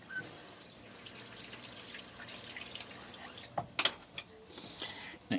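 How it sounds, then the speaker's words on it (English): Faint running tap water as a spoon is washed at a kitchen sink while cooking Thai beef red curry, a steady soft stream with a few brief clinks and splashes near the end. "You wash the spoon here."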